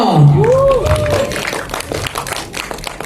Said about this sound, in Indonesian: berikan tepuk tangan yang meriah untuk sang sutradara film Getih Ireng, Tommy Dewo